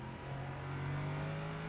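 A Ligier LMP3 race car engine in rFactor 2 hums at a steady, fairly faint mid-pitched drone, holding a constant tone that swells slightly midway.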